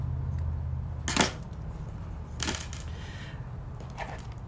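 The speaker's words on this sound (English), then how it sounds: "And then I'm just going to give that a little trim." Scissors snip through a leather bracelet cord in a few crisp, separate cuts spaced about a second apart, close and clear over a low steady hum.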